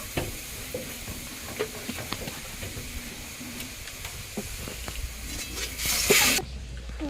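Oil sizzling in a pan as bay leaf and dry red chilli go in, a steady close frying hiss with light stirring clicks, swelling briefly louder near the end before cutting off.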